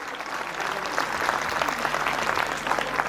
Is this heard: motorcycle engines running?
no